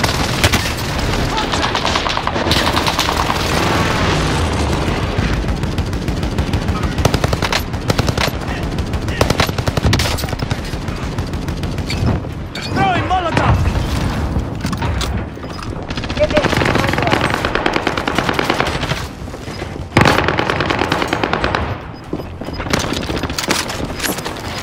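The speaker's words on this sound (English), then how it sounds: "Enemy precision airstrike." Call of Duty: Warzone battle with a precision airstrike: continuous loud bursts of machine-gun fire and heavy explosion booms, with voices talking through the action.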